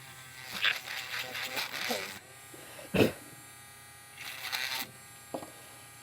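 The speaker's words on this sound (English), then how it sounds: "Let me get these all sanded on the edges the way I want them." A small power sander buzzes in intermittent bursts against the edges of UV resin pendants, with pauses and a sharp knock between passes; a voice speaks faintly in the background.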